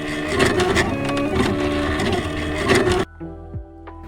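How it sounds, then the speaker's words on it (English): A cutting machine works through laminated stickers with a busy, rhythmic mechanical whirring for about three seconds, then stops abruptly, leaving a faint hum and a small knock. "just let the cutting machine do its thing"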